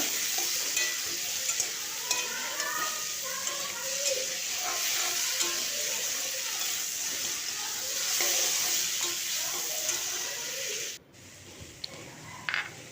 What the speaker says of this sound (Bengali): একটু আদা কড়া দিয়ে দিচ্ছি এক ইঞ্চি এটাকে আবার একটু ভালো করে কষি নেব